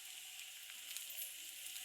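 Sabudana (tapioca pearls) frying in hot oil, giving a soft, steady, fairly faint hiss with small crackles and no voices.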